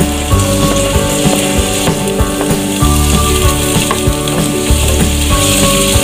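Ginger fries in a hot pan for sinigang na bangus, a Filipino milkfish soup, crackling and sizzling loudly and close up for the whole stretch, with faint stirring bumps and no voices.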